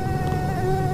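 Giant mosquito in a video game, a continuous thin whining buzz with steady high harmonics lasting about a second, close and fairly loud, with no talking.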